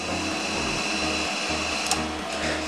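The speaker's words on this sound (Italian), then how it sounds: "questo è un motorino." A small motor whirs steadily nearby with a dense, buzzing hum that holds at constant loudness throughout, with no talking over it.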